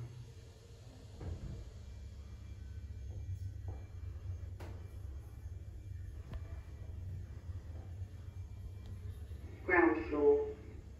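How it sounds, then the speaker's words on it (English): A brand-new Pickerings duplex lift in a Morrisons store in Margate hums and rumbles low as it travels upward, with faint clunks along the way and a short announcement voice near the end. "Lift going up."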